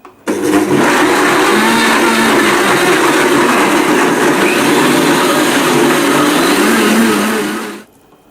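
A blender running on high as it blends yogurt, buttermilk, honey and cinnamon sugar into a smoothie, a loud steady whirring roar that holds for several seconds and then spins down and stops.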